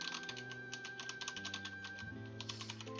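Steady typing on a computer keyboard, rapid light key clicks close by over quiet background music, with no talking.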